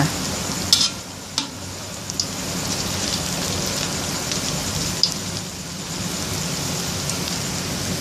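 Banana blossom fish cakes deep-fry in hot oil, Isan home-style, with a steady, dense crackling sizzle throughout and a few louder pops and spatters near the pan.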